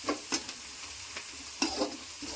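Oil frying in a pan for egg rice, a soft continuous sizzle marked by a few brief stirring scrapes, faint and close.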